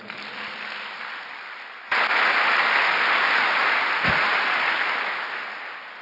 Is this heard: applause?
yes